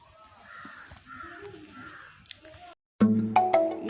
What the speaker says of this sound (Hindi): ये जो 2 पंछी हैं, आप इनको पंछी चिड़िया, तो ये पंछी ना जब से शुक्ला जी गए हैं दोनों आते हैं।